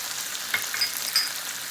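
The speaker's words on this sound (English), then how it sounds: "we're going to stir this up, try to heat up just a little bit more, and get this going" Meat being stirred in a pan with green chilies, cumin and oregano, a steady bright sizzle throughout, with a couple of light scrapes and clinks from the stirring, close and moderately loud.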